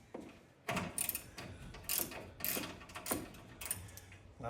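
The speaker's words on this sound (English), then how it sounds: "I'm taking the bolts off of these 2." Bolts come off garage door roller brackets as a ratchet wrench clicks in several close bursts of metallic ratcheting, separated by short pauses, fairly quiet with no one speaking.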